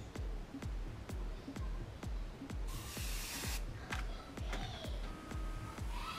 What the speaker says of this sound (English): I sometimes go ahead and spray what is here before moving on to the next section.